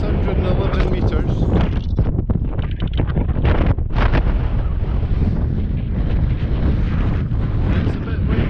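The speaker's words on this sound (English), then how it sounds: "It's a bit windy." Strong wind roars and buffets the microphone at the 611-metre high point of the Skye Trail on the Trotternish Ridge, a loud, continuous gusting rumble with no let-up.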